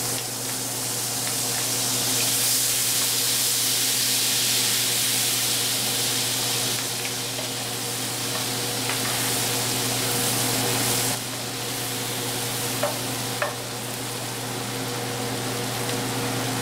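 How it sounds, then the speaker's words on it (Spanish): Garlic frying and browning in oil in a pan, a continuous soft hissing sizzle with a steady low hum beneath, close and even throughout, with a couple of faint clicks near the end and no talking. "Vamos a dorar los ajos."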